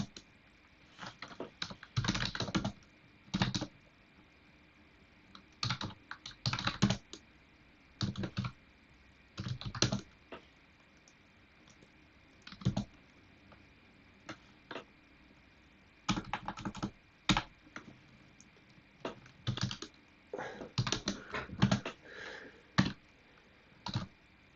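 Computer keyboard typed on while writing Python code, with irregular bursts of quick clicking keystrokes, close and clear, separated by short quiet pauses.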